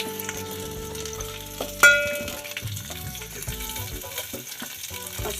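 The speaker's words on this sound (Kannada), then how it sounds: "ಶುಂಠಿ, ಬೆಳ್ಳುಳ್ಳಿ, ಈರುಳ್ಳಿ ಫ್ರೈ ಮಾಡೋಕ್ಕಾಗ್ತಾ ಇದ್ದೀನಿ." Ginger, garlic and onion frying in hot oil in a pan, giving a close, steady sizzle with occasional stirring scrapes, with quiet music underneath and no talking.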